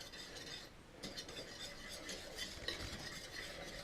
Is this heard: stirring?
yes